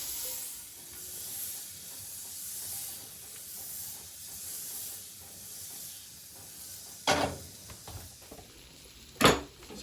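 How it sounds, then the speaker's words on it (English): Two tablespoons of butter sizzle in a hot pan with a soft, even hiss, and near the end two short, sharp bursts of crackle flare up as it is swirled around the bottom. "We got 2 tablespoons of butter. And we're going to swirl around the bottom of the pan."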